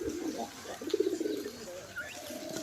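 Pigeons in a loft of local and Sirazi birds coo softly in a few low, throaty rolls close by, with faint chirps and some background noise.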